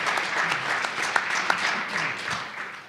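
Audience applause at a panel event on public defense in Illinois, a steady, dense crowd clapping held at even loudness throughout with no voices over it.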